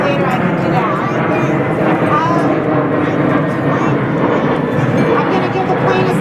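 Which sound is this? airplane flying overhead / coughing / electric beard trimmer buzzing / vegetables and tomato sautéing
airplane flying overhead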